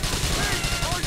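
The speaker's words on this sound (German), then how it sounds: "ich kann ja auch mal darauf schießen" Dense, rapid gunfire crackles in a continuous burst in Grand Theft Auto IV: The Ballad of Gay Tony, loud and close, with a voice partly buried underneath.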